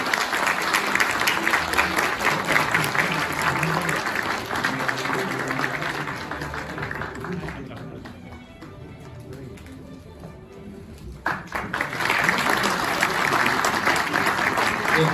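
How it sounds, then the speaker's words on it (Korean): Loud sustained applause from a crowd fades to a quieter lull, then swells again into strong clapping. "박수 부탁드립니다"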